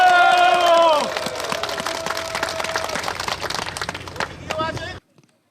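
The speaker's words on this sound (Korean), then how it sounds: "큰 박수, 우레와 같은 박수를 부탁드리겠습니다." A crowd at a Vietnam War veterans' rally outside the Ministry of Patriots and Veterans Affairs in Sejong breaks into loud applause and cheering. An amplified voice rings out over the clapping before the sound cuts off.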